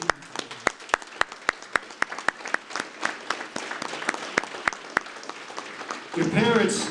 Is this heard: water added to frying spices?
no